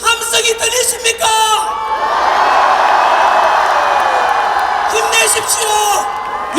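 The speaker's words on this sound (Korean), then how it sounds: "우리의 함성이 들리십니까?" A political rally crowd in Yeouido, Seoul roars with sustained shouting and cheering, loud and continuous for several seconds, with amplified voices bellowing above the crowd noise.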